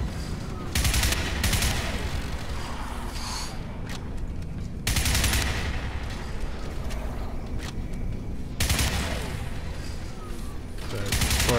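Bursts of SMG gunfire from the video game Crysis Remastered, three sustained rapid volleys of loud, dense automatic shots separated by brief lulls, with someone talking over the action.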